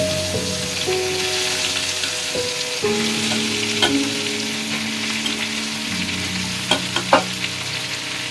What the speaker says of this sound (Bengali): এদিকে আলু পেঁয়াজটাও ভাজা হয়ে গেছে।